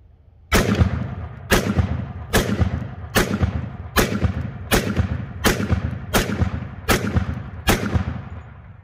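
A Hi-Point JXP 10mm pistol fires nine sharp, loud shots at roughly one-second intervals, held with a weak, limp-wristed grip, each report ringing briefly before the next.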